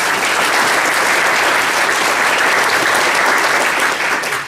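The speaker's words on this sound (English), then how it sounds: "I need to give another round of applause to my sister there." A dinner audience at a stamp show breaks into dense, sustained applause, steady and loud throughout with many hands clapping at once before it starts to thin at the very end.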